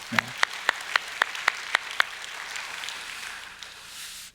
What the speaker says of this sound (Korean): 우리 서로에게 박수로 한번 격려하겠습니다.